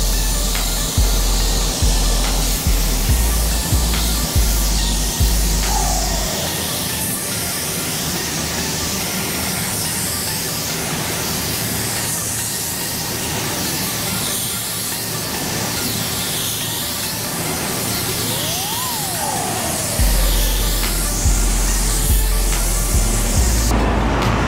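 A spray gun lays a coat of white pearl paint onto a car, producing a continuous loud airy hiss that runs throughout, with a lower rumbling compressor hum underneath at the start and end.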